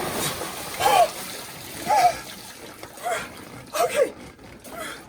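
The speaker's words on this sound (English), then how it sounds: "So now I have to go in the pool." A person splashes into a swimming pool, giving a series of watery splashes and sloshes at roughly one-second intervals, close and moderately loud with faint voice-like sounds.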